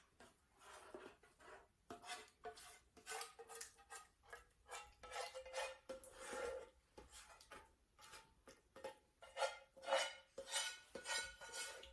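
A spoon stirs sauce into rice and broccoli in a casserole dish for a cheesy bake, with irregular scraping and clinking of utensil against the dish, up close and without any voices.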